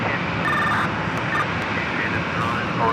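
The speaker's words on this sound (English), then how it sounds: "747 400 freighter heading over for a departure on 4 left" A Boeing 747-400 freighter departing from runway 4 Left at JFK: a steady, broad jet roar that holds at an even level throughout, with wind-like noise mixed in.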